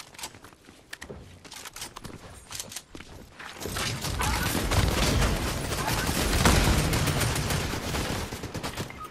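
Gunfire from a shooter video game builds into a dense, sustained barrage of rapid shots that grows louder and fuller midway, with clanking and footsteps mixed in.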